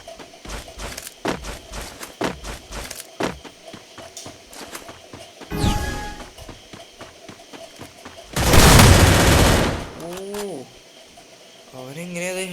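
An MP5 fires in the Free Fire game: rapid sharp shot bursts in quick succession, then a louder sustained burst of noise, over faint game ambience and a brief voice.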